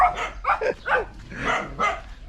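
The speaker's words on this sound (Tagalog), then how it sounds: "Pagpasensya nyo na kung maraming aso dito." Several dogs barking in quick bursts, five or six sharp barks close by, with no one talking.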